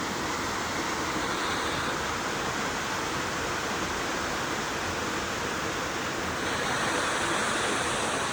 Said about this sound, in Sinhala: ඔන්න ඔතන අපි බඹරකන්ද දියැල්ල බලන්න ආවේ